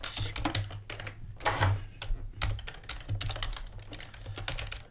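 Rapid, continuous typing on a computer keyboard during game coding, a dense stream of close clicking keystrokes with slight pauses, over low background hum.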